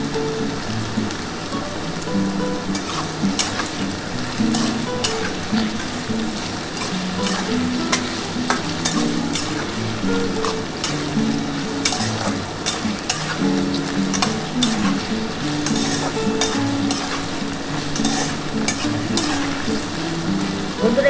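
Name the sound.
ground poppy seed paste frying in pan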